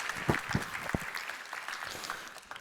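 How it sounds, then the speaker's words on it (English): An audience applauds speaker Ken Matthews at the YITCON14 conference, with a short burst of scattered clapping that fades out over a couple of seconds, fairly faint and a little distant. "Please give Ken Matthews a big round of applause."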